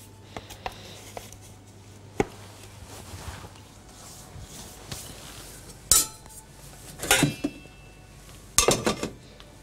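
A chocolate mille-feuille baking pan is set down into a larger metal tray, giving a few sharp metallic clinks and clatters, the loudest three close together near the end, against a quiet kitchen background.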